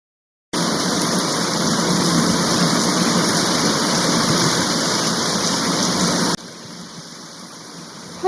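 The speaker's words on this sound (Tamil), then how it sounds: "அச்சோ, மழை வந்துருச்சு" Rain starts falling outdoors, a steady dense hiss that begins abruptly and holds evenly, then suddenly drops to a quieter level near the end.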